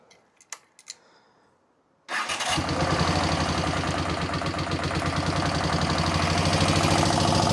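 A motorcycle engine, just repaired with a new carburettor fuel filter and running with a little choke, starts after a few faint clicks and settles into a loud, steady, close idle that continues throughout.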